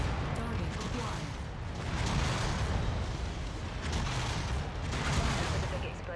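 Explosions and weapons fire from the mech combat game MechWarrior 5 make a dense, continuous rumbling roar with swelling bursts that rise and fall.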